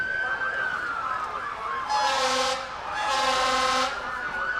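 Emergency vehicle sirens wail in a small-town street parade, a rising and falling electronic tone joined by loud bursts of air horn, close by over outdoor crowd ambience.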